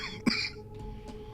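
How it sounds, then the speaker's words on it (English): A man coughs once, a short sharp burst over faint background noise from a home computer setup during a game stream, followed by a quieter breathy sound. "I do apologize for the coughing."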